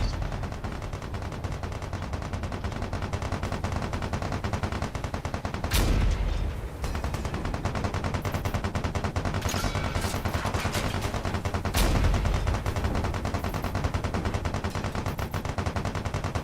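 Field cannons in the Space Engineers video game fire through a continuous battle din, with two louder, sharp booming blasts standing out near the middle and toward the end amid steady rattling gunfire.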